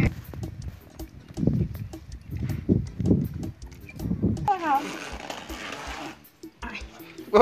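A horse walking at an easy pace, hooves clip-clopping in a steady, close rhythm, with a voice speaking over the steps and a brief clattering rustle partway through.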